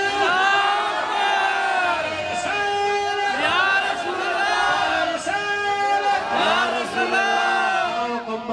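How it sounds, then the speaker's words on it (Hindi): A large gathering at an imam bargah raises a loud, massed Takbir chant in unison, many voices shouting together in sustained waves throughout. "मिलकर नारा तकबीर"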